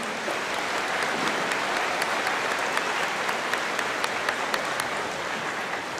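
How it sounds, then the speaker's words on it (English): A crowd applauds steadily at a high school commencement ceremony, a dense wash of many hands clapping at once with a few sharper claps standing out. "let's give a big round of applause to our collective support system"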